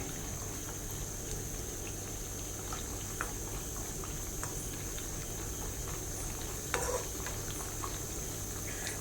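Cashew nuts frying in a pan for Kerala-style pineapple payasam give a steady, soft sizzle with scattered small crackles and pops, quiet and continuous with no talking.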